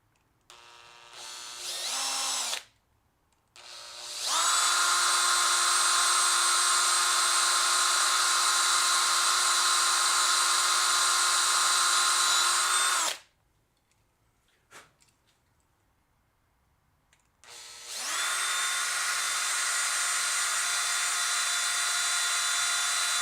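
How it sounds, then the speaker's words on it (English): A power drill bores a mounting hole in the rear of a Nissan Z in two long, loud, steady whining runs, a brief start-up burst first and quiet gaps between, with no talking. "I'm trying to drill as perfectly centered in the back as possible"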